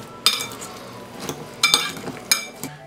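Spoon clinks against a bowl while an egg is worked into a meatball mixture of breadcrumbs and meat, a few sharp scraping taps in irregular bursts, close and fairly loud, with no talking.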